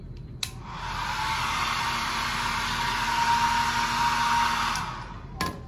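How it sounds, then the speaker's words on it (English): A hair dryer switches on and blows at a house model with a steady, loud whooshing roar for several seconds, then clicks off. "Do you think it's gonna work when I use the hair dryer?"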